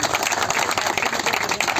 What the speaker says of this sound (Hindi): इनका ताली बजा करके सब लोग स्वागत करें।